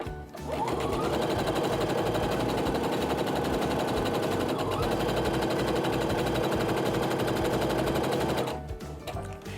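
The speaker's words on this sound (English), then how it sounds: "I'm going to feed that through the sewing machine" A sewing machine chain-piecing quilt blocks runs in one long continuous burst, its rapid needle rattling steadily for several seconds before stopping.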